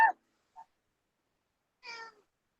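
A house cat meows at close range, one short call at the start, a tiny chirp, then a longer meow near the end, with silence between.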